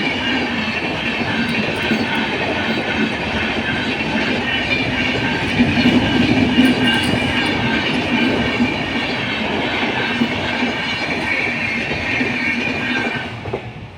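Train rolling past a closed railway level crossing gate at Boinchi, a loud continuous rumble and clatter of wheels and cars, close by, steady for the whole stretch before easing off at the end.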